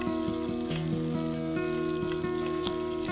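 Capsicum and onions fry in oil with a steady, soft crackling sizzle that runs unbroken under tonal background music.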